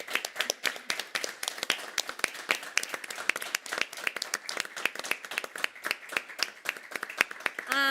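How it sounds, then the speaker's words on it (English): Audience applause at the Quantum Future Award 2025 ceremony as winners are presented: many hands clapping in a dense, steady patter for several seconds, close and fairly loud, with no talk over it. "and a round of applause"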